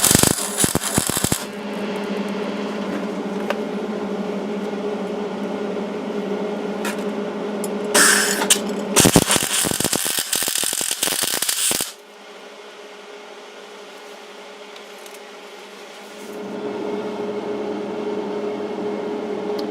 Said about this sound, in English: Then I'll try to lay a weld in there nice and neat.